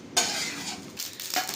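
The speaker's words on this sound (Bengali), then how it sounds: "আমার মা এই সব মশলাগুলোকে ভাজা করে নিচ্ছে" Panch phoron spices dry roasting in a pan, a close dry rustling hiss with the scrape of a stirring spoon, rising and falling briefly without any voices.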